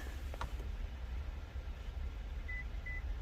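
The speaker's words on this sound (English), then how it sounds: "Alright, car beeped" Two short electronic beeps from a Nissan car's immobilizer sound in quick succession near the end during key programming, faint against a low background hum, with a brief click earlier.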